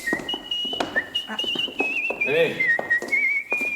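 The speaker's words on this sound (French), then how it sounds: "voilà votre oiseau siffleur" A whistling bird, likely a pet kept indoors, lets out a long wavering high whistle running nearly the whole time, rising and falling in pitch, over a voice and room chatter.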